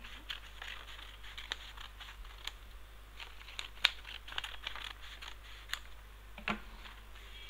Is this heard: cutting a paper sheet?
yes